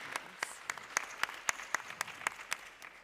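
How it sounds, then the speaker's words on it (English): Sparse clapping after a summit panel discussion, a few distinct claps at a steady rhythm about every quarter second, faint and close, with no crowd swell behind them. "One round of applause for all our speakers here online."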